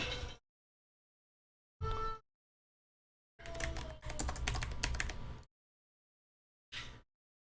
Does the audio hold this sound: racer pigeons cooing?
no